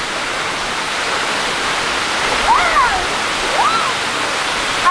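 Jagasatru waterfall in Bali roars as a steady, loud broadband rush of falling water, constant throughout, with faint brief voices or bird-like chirps barely rising above it.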